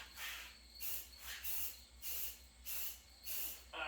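Cheap spray paint hisses from an aerosol can in a series of short, even bursts of about half a second each, separated by brief pauses, steady and close with no talking.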